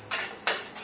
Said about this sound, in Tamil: இத நல்லா மூணுத்தையும் நல்லா வறுத்து எடுக்கணும்.